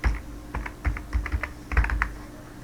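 Keys clatter on a computer keyboard while someone types out a resume, a dozen or so close, quick clicks arriving in short bursts with brief pauses between them and no talking.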